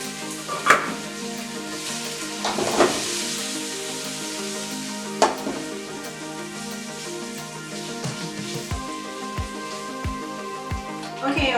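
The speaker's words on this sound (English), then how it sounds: "We're going to fry up also" Vegan beef sizzles in a hot pot, a soft continuous crackle with occasional louder pops and clinks of a utensil, and light knocks toward the end.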